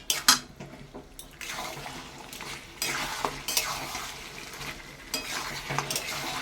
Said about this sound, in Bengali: এবার সামান্য স্টক দিয়ে দিয়ে আমি এই মটনটা আমি কষাতে থাকবো।